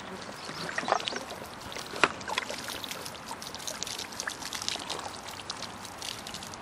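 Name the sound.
water poured into instrument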